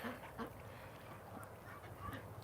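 Farm ducks quacking in cold winter weather beside an iced-over pond, several short calls spread through a steady low outdoor hum, moderately near but fairly soft.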